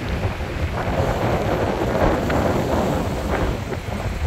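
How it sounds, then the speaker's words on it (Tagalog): Strong wind at Bagasbas beach at high tide, a steady, roaring rush buffeting the microphone with broadband noise that swells and eases slightly, with no voices heard. "Grabe, lakas ng hangin."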